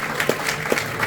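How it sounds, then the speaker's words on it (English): Applause from an audience at a community awards ceremony on stage, a brief wash of steady clapping heard at moderate distance. "Give her a nice round of applause"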